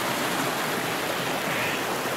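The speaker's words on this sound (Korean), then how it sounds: "여기서 물이 나옵니다. 물소리가 좋죠?" Treated wastewater pours from a discharge outlet into the Gonjiam stream below a sewage treatment plant, a steady, loud, close rushing roar of falling water with no break and no voices.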